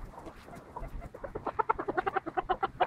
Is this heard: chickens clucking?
yes